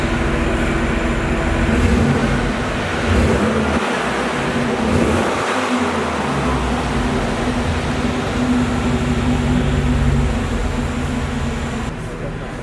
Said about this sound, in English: exhaust note. It's on stock